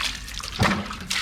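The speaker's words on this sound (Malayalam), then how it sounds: "മുന്നേ ഇപ്പോൾ വെള്ളം ഒഴിക്കട്ടെ." Water poured over a head while bathing, a short close splash and trickle with a brief louder gush in the middle.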